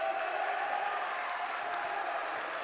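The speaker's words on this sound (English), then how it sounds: "Briar Cliff crowd getting loud over here" Crowd at a men's JV college basketball game between Dordt and Briar Cliff roars steadily and loudly, a dense sustained wall of cheering and clapping with no breaks.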